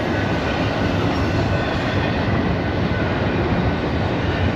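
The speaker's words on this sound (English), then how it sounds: "I'm gonna guess that there's probably like 5 or 6 diesels in the back." A long freight train hauled by diesel locomotives rumbles past close by, a loud, continuous roar of engines and rolling cars with no speech over it.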